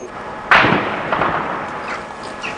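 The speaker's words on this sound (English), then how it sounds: "There has been a gun battle going on around this hotel in the parkland all morning." A single sharp report from a gun battle in parkland around a Sarajevo hotel, 1992, cracks out at mid-distance and echoes away, followed by faint scattered distant pops.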